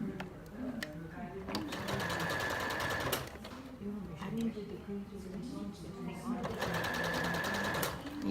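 A sewing machine stitches fleece booties in short runs with brief pauses, close and moderately loud, while a person talks over the mechanical whir.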